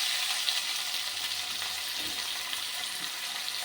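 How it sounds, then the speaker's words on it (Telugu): Washed white gongura (sorrel) leaves sizzle in a hot pan, a steady bright hiss with faint stirring clicks, close and continuous, with no voices. "దీన్ని కూడా ఇదే ప్యాన్లో ఇప్పుడు మనం కడిగి పెట్టుకున్న గోంగూరని వేసేసుకున్నాం"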